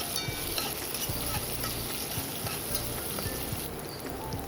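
Cashew nuts frying in a pan, a steady close sizzle with faint stirring scrapes running throughout, no voices.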